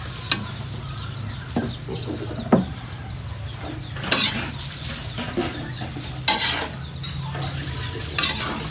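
Cabbage and mixed vegetables cook in a pan under a steady sizzle, broken every second or two by sharp spatula scrapes and clanks against the metal, close and fairly loud, with no voices.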